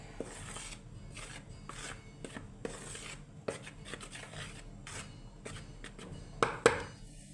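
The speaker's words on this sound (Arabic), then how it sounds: "هنقلب بقى المكونات بتاعتنا" A spoon stirs the ingredients for homemade crunchy bread rusks in a bowl. Soft rhythmic scraping and rubbing strokes repeat steadily, fairly close and quiet, with a couple of sharper knocks near the end and no talk.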